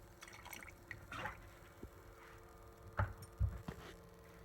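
Diluted vinegar, three parts water to one part vinegar, poured over old nickel coins in a container, giving faint trickling and dripping with a few louder splashes and clinks near the end and no talk.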